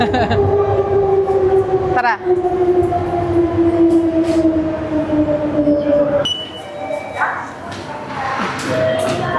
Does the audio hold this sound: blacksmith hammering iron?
no